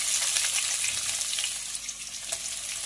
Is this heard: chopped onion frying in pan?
yes